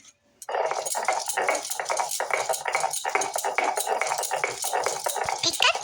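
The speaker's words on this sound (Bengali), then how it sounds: "এইটাকে আমি বাঁটবো শিলে বাঁটবো" Fried bottle gourd leaves are ground by hand on a flat grinding stone with rhythmic back-and-forth scraping strokes. The grinding is close and continuous, following a brief quiet start.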